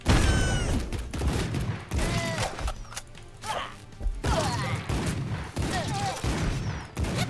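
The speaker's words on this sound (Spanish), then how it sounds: "Hostia, le mato de dos tiros." Gunfire in the roguelike shooter AK-xolotl, with rapid bursts of shots and impacts among game effects and music, loud and repeated through the whole stretch.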